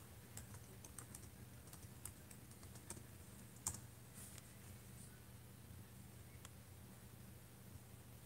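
Steady keyboard typing at a computer, quick irregular keystrokes with a few sharper clacks, fairly close and alone over a low constant hum.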